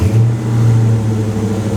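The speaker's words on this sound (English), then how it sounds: "I got it idling here at 13. I'll give it some throttle." A car engine fitted with an Edelbrock AFB carburetor rises from idle under throttle, a loud, close, steady engine hum that holds at raised revs with no talk over it.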